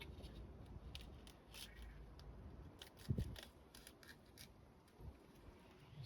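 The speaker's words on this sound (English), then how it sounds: "Scissors, wallpaper scissors or something over." Quiet snipping of scissors trimming stiff car door card material on a 2001 Vauxhall Omega B, several scattered crisp cuts with faint rustling and one louder thud, close and soft.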